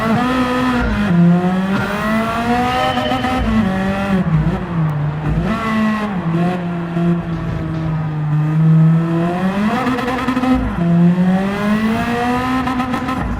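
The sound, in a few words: Nissan Skyline Super Silhouette race car driving in video game Gran Turismo 6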